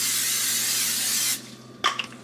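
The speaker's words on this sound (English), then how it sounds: "Zero calorie nonstick spray." Zero calorie nonstick cooking spray hisses in one steady, loud burst from an aerosol can for over a second, then cuts off, followed by a couple of faint clinks and kitchen noise.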